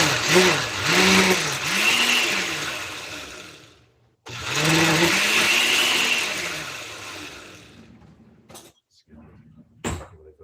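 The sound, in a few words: blender pulsing ingredients until creamy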